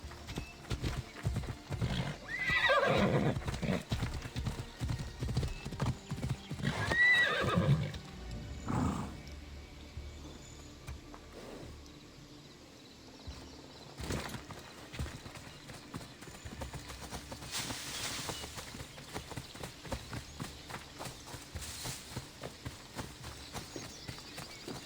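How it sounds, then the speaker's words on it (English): A horse in the video game Assassin's Creed neighs and whinnies several times over a steady clip-clop of hooves, fairly close, with the hoofbeats continuing on their own in a regular rhythm afterward. "It's weird that horse would be right there,"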